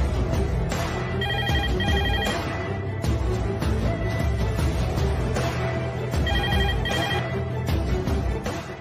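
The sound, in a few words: telephone ringing as a call is placed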